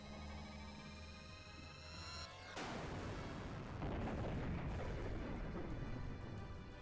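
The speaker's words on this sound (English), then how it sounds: "I love that you can use the Yggdrasil as a cannon" The Yggdrasil ship fires as a cannon in Xenogears: a steady tonal hum cuts off and gives way to a loud, sustained roar of blasts and rumbling that swells and holds to the end, with no talking.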